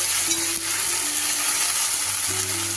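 Tomato sauce, soy sauce and green chili sauce hit a hot frying pan for a restaurant-style chilli chicken, giving a steady loud sizzle with a faint hum underneath and no talking.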